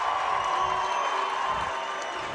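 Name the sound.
crowd cheering at a high school basketball game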